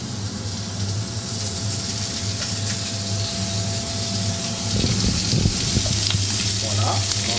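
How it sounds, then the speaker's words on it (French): A duck foie gras escalope sears in a hot old pan with a loud, constant close sizzle and hiss, and brief bubbling crackles and a stirring scrape near the end. "Écoutez l'escalope de foie gras qui chante."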